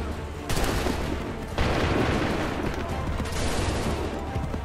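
Guns fire in a sustained, dense barrage of overlapping shots, loud and continuous, with a couple of sharp swells where new volleys start.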